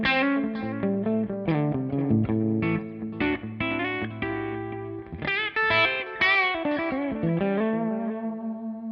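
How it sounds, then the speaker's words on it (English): Electric guitar played through a ToneX pedal amp model with a touch of delay, a run of picked notes and chords with echoing repeats trailing behind, fairly loud and alone. "Notice I have a little bit of delay on that."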